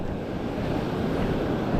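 Surf breaks in a steady, rushing roar on a California beach during surf fishing for barred surfperch in murky water, with wind buffeting the microphone and no voices.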